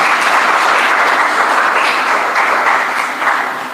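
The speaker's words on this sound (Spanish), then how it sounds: "¿Cuántos pueden dar una ofrenda de aplauso al Señor?" A church congregation breaks into loud, sustained applause, dense and steady clapping filling the room before easing off slightly at the end.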